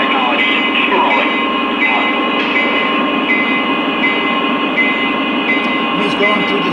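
A Lionel SD45 Great Northern model diesel locomotive runs, giving a steady, loud mechanical hum with a constant droning engine tone and faint clicking throughout.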